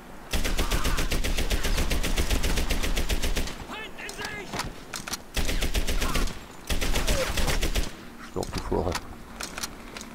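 Long bursts of rapid machine gun fire in the video game Medal of Honor: Airborne, loud and continuous with short gaps between volleys and someone talking under the shooting.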